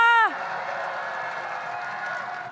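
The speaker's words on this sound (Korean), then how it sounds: "큰 박수로 무대로 모시겠습니다" A crowd applauds to welcome a film director onto the stage at a political rally, opening with a brief tonal electronic sound, then sustaining steady, fairly loud clapping.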